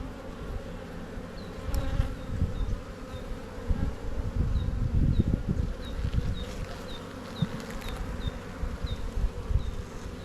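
Honey bees buzz steadily throughout a spring hive inspection by an Australian beekeeper, a dense close hum with scattered individual bees whining past, alone without talk.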